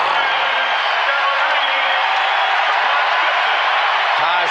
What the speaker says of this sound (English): Taj comes out, and the crowd is going crazy.